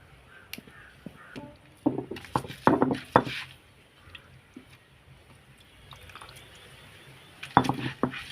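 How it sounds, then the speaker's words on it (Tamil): Leaves are washed in water with soft splashes and drips coming in short bursts, while crows caw loudly nearby. "இப்போ வந்து இலையை நல்லா கழுவிக்கோங்க"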